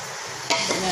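A pot of Kabuli pulao ingredients fries with a steady sizzle, then a couple of quick scraping stirs of a spoon against the pot, close and brief.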